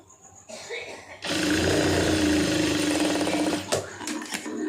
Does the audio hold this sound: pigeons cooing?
no